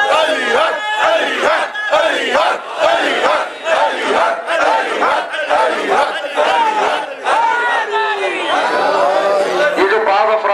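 A large gathering at a Muharram majlis chants in unison in response to the slogan Ali Haq, loud rhythmic massed voices rising and falling in repeated waves, close and filling the space.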